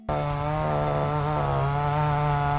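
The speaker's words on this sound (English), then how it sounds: "with the exception of the annoying chainsaw." A chainsaw runs steadily near the Mycenaean citadel ruins at Mycenae, its buzzing engine starting abruptly and holding a loud, even whine with slight shifts in pitch throughout.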